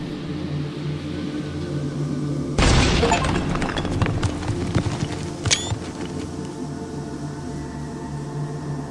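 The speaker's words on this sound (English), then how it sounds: "The explosives are in place. I just have to detonate them somehow." Gunpowder explosives packed at the base of a pillar detonate in the game Morningstar: Descent to Deadrock, one sudden loud boom followed by several seconds of crackling, pattering debris that fades back into a steady low ambient hum.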